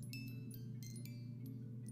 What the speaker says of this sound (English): When I play this music box by itself, it sounds like this.